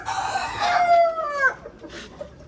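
A chicken in a backyard coop where eggs are being collected gives a single drawn-out, falling call lasting about a second and a half, close and fairly loud, followed by quieter scratchy movement.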